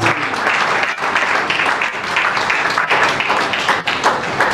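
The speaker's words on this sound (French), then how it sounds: "Est-ce que vous pouvez applaudir son excellence, madame la ministre des Droits humains, qui s'avance." An audience at a trophy ceremony in a hotel hall applauds a human rights minister as she arrives: steady, dense clapping from many hands, fairly loud and continuous throughout, with no speech over it.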